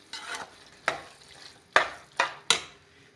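Paneer mixed with deggi red chili powder in a pan, stirred in five sharp scraping strokes at uneven intervals over a faint sizzle, close and alone with no voices.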